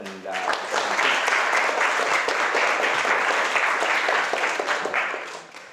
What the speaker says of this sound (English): please join me for a round of applause for Dr. Sarkar